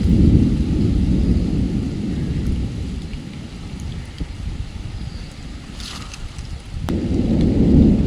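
Heavy rain pours steadily during an outdoor fishing trip in a storm, while loud thunder rolls in a deep, sustained rumble that swells, fades midway, then builds again.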